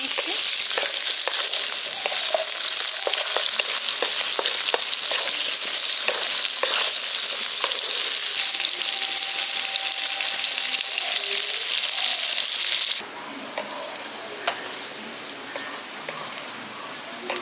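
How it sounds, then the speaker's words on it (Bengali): Long potato strips sizzle steadily in hot oil, a dense continuous crackle with occasional stirring scrapes, then the frying drops to a quieter, thinner hiss for the last few seconds. "আলুগুলো এবার আমি হালকা করে লালচে করে ভেজে নিচ্ছি।"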